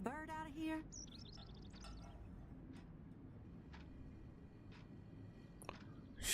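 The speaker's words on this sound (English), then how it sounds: "Can you help me get this bird out of here?" A bird chirping indoors in the video game Life is Strange Remastered, a few short high tweets near the start followed by faint sparse clicks and chirps over a quiet room ambience.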